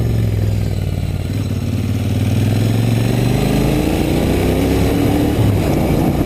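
A 2020 Royal Enfield Continental GT 650 twin rumbles steadily while being ridden, its engine note loud and close with a slowly rising pitch as it accelerates, no voices over it.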